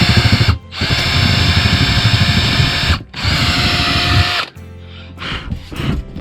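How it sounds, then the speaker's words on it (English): A cordless power drill bores into a Ford Transit MK8 van roof during a Mini Heki skylight installation, loud whining bursts close up with short pauses between them, ending in a few stuttering pulses. "I know I'm drilling that"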